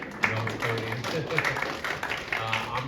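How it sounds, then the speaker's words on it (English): An event audience at an affordable housing week kickoff gives a brief round of applause, a steady wash of clapping at moderate volume, with voices mixed in underneath. "Give yourselves a round of applause if you're okay with that."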